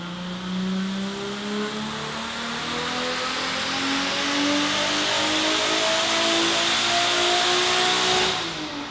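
A Toyota Supra engine revs on a dyno, holding a loud, steady howl that climbs smoothly in pitch over several seconds before easing off at the end.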